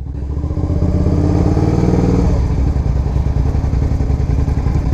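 A Suzuki SV650S motorcycle engine revs up close, rising in pitch and then settling into a loud, rough, pulsing idle with lumpy firing beats.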